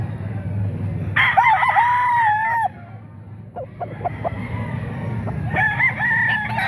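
Boston Gilmore gamefowl roosters at a market crow loudly nearby, one long call, then a pause with a few clucks, then another crow, over a low background murmur.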